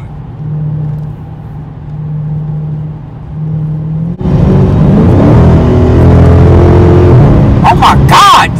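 An SRT car engine hums at steady idle, then surges loudly into a sustained revving acceleration in track mode on a highway, close up, with a voice speaking briefly near the end.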